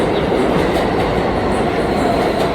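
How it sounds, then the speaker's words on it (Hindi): A New York subway R local train rumbles past close by, a loud, continuous roar of wheels and cars with faint clattering, unbroken throughout. "ये R ट्रेन है, R ट्रेन।"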